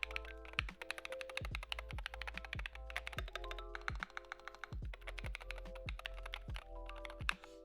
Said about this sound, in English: You're hearing a lot of the rubbing of my fingers. The texture on these keys is amazing.